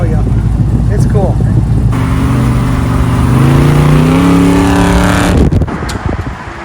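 A car drives past a stadium, its engine revving up through rising gear-like tones and holding loud and close for several seconds before cutting off abruptly, with some talk early on.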